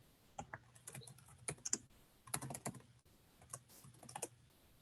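Someone types on a computer keyboard while writing a first Python program, with quiet irregular bursts of key clicks separated by short pauses.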